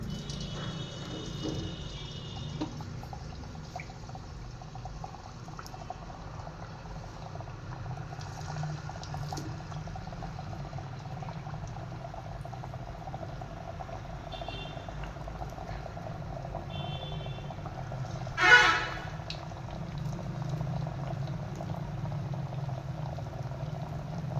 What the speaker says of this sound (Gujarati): હવે આને આપણે તેલમાં તળવા દઈશું.